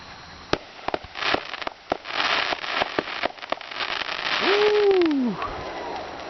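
Outdoor fireworks go off as a string of sharp, distant bangs and crackles over a steady background hiss. A rising and falling whistling streak is heard near the end.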